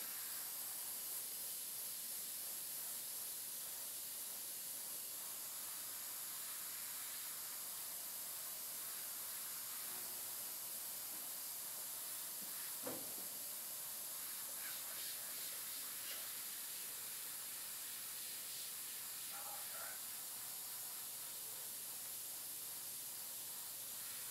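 An airbrush sprays paint while an eye is painted, a faint, continuous airy hiss that runs throughout with a few small clicks and soft bumps.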